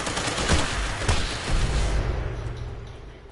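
Gunshots in a caveman-themed PvP video game fight, with a rapid close volley of shots that fades out toward the end.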